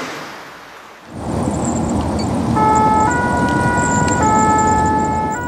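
A fire brigade ambulance siren from Magnanville starts after a quiet second, blaring loud and steady with a rising two-tone wail over the deep rumble of the moving vehicle.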